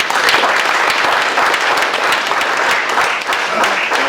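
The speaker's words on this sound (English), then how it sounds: "Give him a round of applause." Audience applause at a mentoring group class orientation for fifth and sixth grade boys: loud, dense clapping from a crowd, sustained and fairly even throughout with a slight dip near the end.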